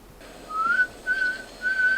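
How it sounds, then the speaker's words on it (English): A person whistles three short rising notes, each a clear pure tone with pauses between, heard alone against faint background noise. "Who's whistling?"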